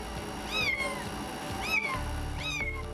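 A kitten meows three times from behind a wall, each cry a rising then falling wail with about a second between calls, muffled and mid-distance over a low background rumble.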